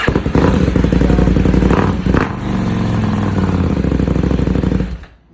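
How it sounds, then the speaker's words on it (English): KTM 790 motorcycle with its catalytic converter removed and a Leo Vince mid pipe, idling and revving loudly up close with a deep, pulsing exhaust note that dips midway and then cuts off abruptly at the end. "The cat was totally removed, and it has a Leo Vince mid pipe, and the sound of it is amazing."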